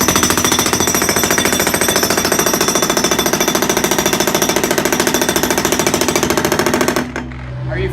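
A jackhammer pounds in a rapid, unbroken mechanical rattle, loud and close, then cuts off abruptly, leaving quieter background noise.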